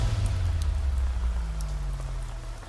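Steady rain pattering on a surface with scattered distinct drops, close and continuous, over a low rumbling background hum, without any voices.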